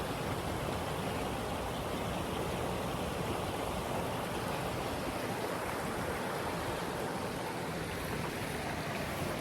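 River water rushing over rocks with white water in College Park, a dense, even roar of flow filling the scene without pause.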